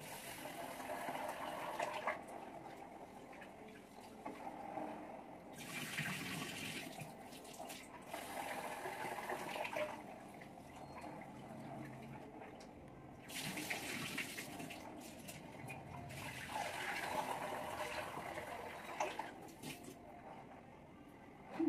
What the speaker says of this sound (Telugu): సో బియ్యం వాష్ చేసుకునేస్తాను.